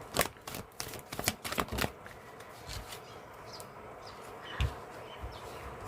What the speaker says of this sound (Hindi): So let me just juggle once again, shuffle once again and see.